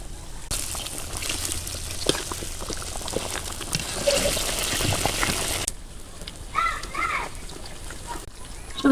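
A rushing, splashing stream of hot water pours into a pot of chicken for several seconds, then stops, followed by brief speech.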